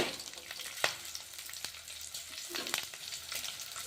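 Garlic, cumin and green chillies frying in oil hiss with a soft, steady sizzle, broken by a few sharp spoon-against-pan clicks from stirring. The whole sound is quiet and close.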